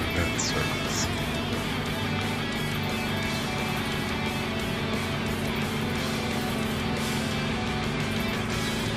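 Game-sound car racing in Gran Turismo 5 with an American car suffering an oil problem: a steady, dense engine drone runs the whole way at an even level, with no talk over it.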